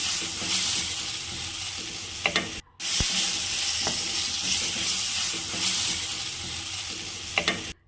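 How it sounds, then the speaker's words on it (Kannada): A tomato cooks in a pan of oil with poppy seeds, giving a steady close sizzle and hiss. Faint stirring scrapes and a few clicks sound over it, and the sizzle drops out for a moment partway through. "ಒಂದು ಟೊಮೊಟೊ ಸಾಫ್ಟ್ ಆಗೋವರೆಗೂ ಬೇಯಿಸ್ಕೊಳ್ಳಿ"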